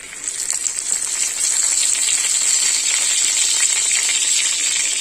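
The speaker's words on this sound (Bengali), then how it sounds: "তেল গরম করে নিয়েছি তেলে ফোড়ন দেবো তেজপাতা" Bay leaf hitting hot oil for tempering gives off a bright, continuous hiss and sizzle, fairly loud and close, holding steady for several seconds with no voices.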